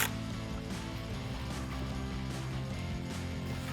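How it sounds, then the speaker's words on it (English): Ratchet with a 10mm socket turning the battery's negative terminal bolt on a 2021-2022 Ford Bronco, a rapid, continuous close-up clicking of the pawl throughout a few seconds. "undo the bolt at the negative terminal, place our ground wire there, and we can tighten that back up"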